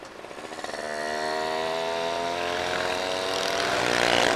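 Suzuki Satria motorcycle engine running during a pre-tune-up condition test, revving up from a pulsing idle into a steady, loud buzzing drone that climbs slightly in pitch and stays close.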